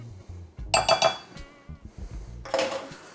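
Fork clinking quickly against a bowl while an egg is beaten, two short bursts of bright metallic taps separated by a brief pause, close and fairly quiet.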